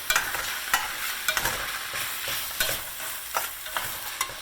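Corn and onions sautéing in butter are stirred in a pan, with a steady soft sizzle broken by repeated scraping and clacking strokes of the spoon at an irregular rhythm, close and moderately quiet.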